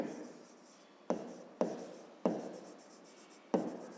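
Chalk or marker strokes on a board during a fifth-grade geometry lesson, four sharp scratchy strokes starting abruptly and trailing off, close and clear with no talking.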